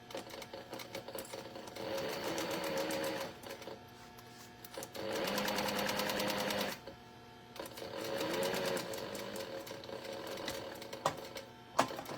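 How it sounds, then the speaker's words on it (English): Sewing machine stitching the side seam of a crossbody bag, running in three long bursts with short pauses between, close and steady with no voices. "I'm going to sew one side first and then mark the other"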